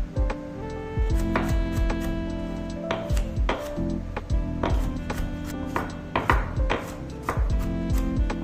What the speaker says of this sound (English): I'm going to blend these, so I'm just chopping them up into more manageable pieces.